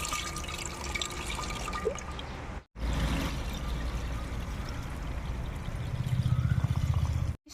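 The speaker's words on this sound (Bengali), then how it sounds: "শিরা তৈরি করার জন্য জলের মধ্যে চিনি দিয়ে নিচ্ছি।" Water and sugar are poured together in a kitchen to make syrup for rasgulla, a steady close trickling and pouring that runs throughout, broken by one brief gap and growing louder near the end.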